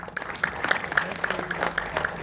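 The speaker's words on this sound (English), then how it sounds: "Every Indian should applaud for every other Indian for this." Audience clapping at a film festival panel on culture and cinematic storytelling, a steady patter of applause at moderate loudness with regular distinct claps and no talk over it.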